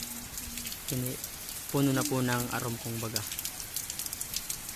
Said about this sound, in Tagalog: natabunan na po ng sobrang napakalakas na ulan